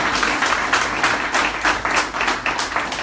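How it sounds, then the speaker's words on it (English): Entrepreneurs at an enterprise event at an agricultural university in Krakow applaud, a steady, fairly loud round of clapping with pulsing bursts lasting about three seconds. "you could give them a round of applause because they're not being paid to be here"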